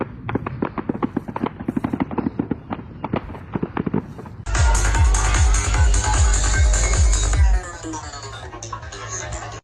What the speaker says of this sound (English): It was around 7, I think, when the shooting started.